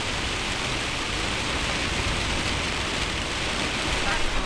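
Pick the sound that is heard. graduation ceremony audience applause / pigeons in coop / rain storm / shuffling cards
rain storm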